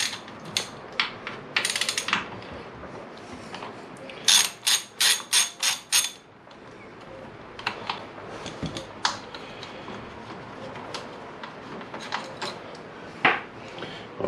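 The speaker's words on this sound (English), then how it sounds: "So I'll begin by pulling the bolts out that hold the heel plates on, because they also hold on the master cylinder." Bolts holding the heel plates on a 1998 Kawasaki ZX9R are loosened with a ratchet, its quick clicking coming in short close bursts, including a fast run of clicks midway, amid handling noises and metallic clinks.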